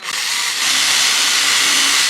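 A power drill bores a pilot hole in wood for a box joint jig, a steady loud whirring hiss that rises slightly and holds for a couple of seconds without speech.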